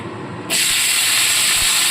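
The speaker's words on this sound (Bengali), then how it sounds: "এবার এই তেলের মধ্যে দিয়ে দিচ্ছি পেঁয়াজ কুলিগুলো" Onion flower stalks drop into hot oil with a sudden, loud broadband sizzle that starts partway through and holds steady, a dense hissing spray with no talking.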